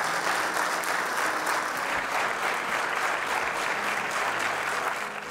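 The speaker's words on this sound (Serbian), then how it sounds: "Molim vas da jednim aplauzom pozdravite našu gostu, Anđelu." A studio audience at a television show applauds a guest with a dense, sustained clapping that stays loud and even and tapers slightly at the very end.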